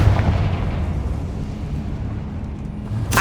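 The Confringo fire spell in Hogwarts Legacy detonates in a deep, rumbling explosion that rolls on loudly and steadily for several seconds, with a sharp burst at the very end.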